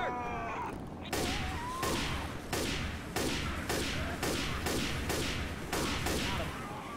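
Weapon fire aimed at a Spitter in Left 4 Dead 2, heard as a steady series of about eight evenly spaced loud shots, each with a sharp crack and a short echoing tail.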